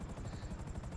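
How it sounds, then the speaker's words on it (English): A helicopter whirs in a quick burst, its rotor thumping in a rapid pulsing rhythm that sounds moderately close and muffled, alone without talk. "He's in a helicopter."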